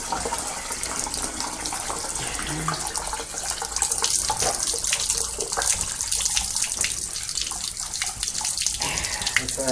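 Hose water sprays steadily inside a steam boiler being washed out, a continuous hissing, splashing rush that stays fairly even throughout with faint background sounds.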